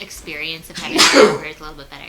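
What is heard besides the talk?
sneeze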